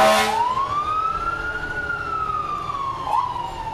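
A fire truck siren wails, sweeping slowly up and down, fairly close and loud, with a brief horn-like blip near the end, at an autumn festival parade.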